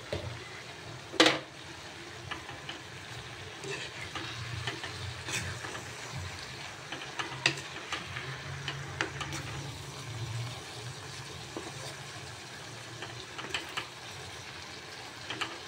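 Leafy greens (shak) seasoned with turmeric and salt frying in a pan, a soft low sizzle with intermittent scraping and clattering taps of stirring, close and quiet with occasional sharper knocks.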